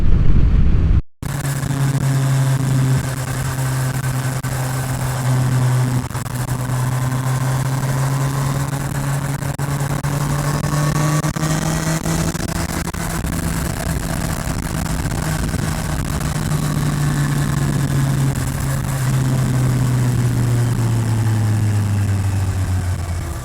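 A Kawasaki Ninja 1100SX motorcycle fitted with an upgraded aftermarket exhaust idles steadily with a deep, even rumble, close and loud with no one talking, its pitch drifting slightly over about twenty seconds.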